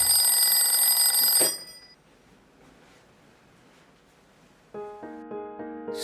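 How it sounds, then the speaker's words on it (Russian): An alarm clock rings loud and shrill for about a second and a half, then cuts off into quiet; after a pause a bright, tonal electronic beeping melody starts up. "Будильник."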